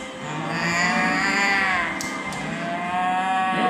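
Someone imitates a cow mooing in an animal-sounds game: one long, drawn-out lowing call with a wavering pitch, up close and loud, running for several seconds without other speech.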